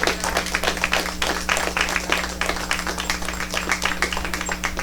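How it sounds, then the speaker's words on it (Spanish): A church congregation claps loudly and quickly together over a steady low hum, the dense clapping going on without pause for several seconds. "Dale un aplauso fuerte al Señor"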